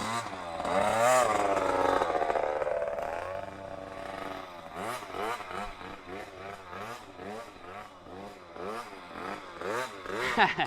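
A small motocross bike engine buzzes and revs repeatedly, rising and falling in pitch, close by and loud throughout.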